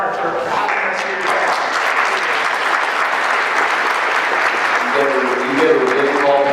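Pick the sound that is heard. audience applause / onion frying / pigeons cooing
audience applause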